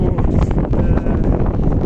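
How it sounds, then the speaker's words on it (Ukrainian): Strong wind on a city street in Ternopil buffets the microphone in a steady, loud rumbling roar with gusty fluctuations throughout. "трохи задуває вітерець"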